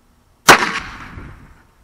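A Heritage Rough Rider revolver fires a single .22 round, a sharp close crack that trails off into a short echoing decay, with no other sound around it.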